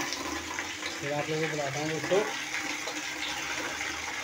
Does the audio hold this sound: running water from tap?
yes